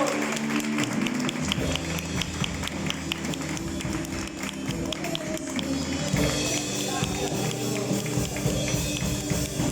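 A church congregation claps along during a worship service, the sharp hand claps falling in a steady rhythm over sustained music with low bass tones, fairly soft and blended together.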